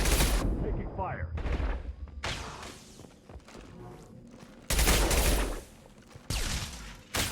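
Gunfire in the Mass Effect 2 video game, loud bursts of shots and blasts in rapid clusters with brief lulls between them, with a voice speaking under the combat.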